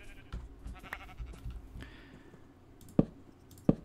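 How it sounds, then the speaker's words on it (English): Sheep bleat in the Minecraft video game: two short, sharp calls close together near the end, following scattered clicks and footstep-like game sounds. "Ah, out of the way, sheep."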